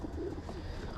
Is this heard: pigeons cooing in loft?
yes